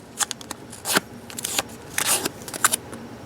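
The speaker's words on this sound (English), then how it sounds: "you want to fold it in half lengthwise like this" A Post-it note paper strip is folded in half lengthwise, giving close, sharp crinkles and crisp creasing snaps in a few irregular bursts, with no talking.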